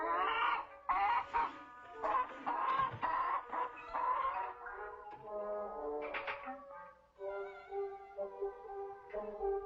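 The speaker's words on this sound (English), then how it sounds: "Buck, do you know anything about hens?" Hens cluck and squawk in a busy, uneven run of calls close by, with no voices over them.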